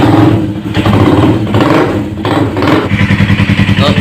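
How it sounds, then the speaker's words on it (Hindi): A Hi Speed Infinity 150cc motorcycle with a clutch noise idles right up close, its loud rhythmic thumping engine note dipping and rising briefly. "दोस्तों अभी मैंने बाइक स्टार्ट कर दी है,"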